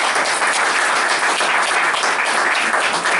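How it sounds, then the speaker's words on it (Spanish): A bookshop audience breaks into sustained, dense applause after a talk about Allende. The clapping stays loud and even throughout, with no speech over it. "Un aplauso para Mario."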